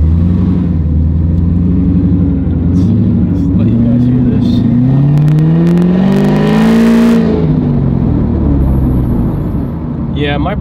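An American muscle car engine revs from inside the cabin with the windows down, its deep exhaust note climbing and falling in several throttle blips, while someone speaks over it.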